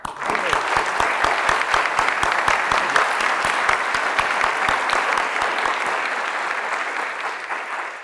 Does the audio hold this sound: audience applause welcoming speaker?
yes